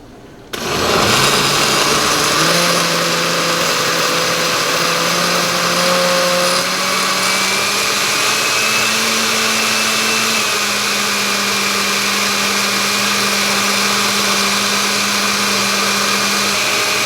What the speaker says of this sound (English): and then we start blending